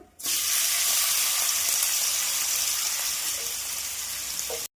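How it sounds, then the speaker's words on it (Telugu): Ridge gourd peel frying in hot oil in a pan, a steady loud sizzle that starts abruptly and holds evenly throughout, close by with no talk. "ఇప్పుడు బీరకాయ పొట్టు మంచిగా వేగింది"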